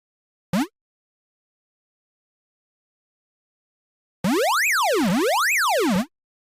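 A brief synth blip, then after a pause a bright electronic tone on E, made in Vital and FL Studio, sweeping up and down in pitch like a siren for about two seconds.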